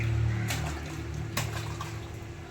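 Water is poured over a child during a bath at home, a steady splashing gush with a couple of louder surges, close and alone.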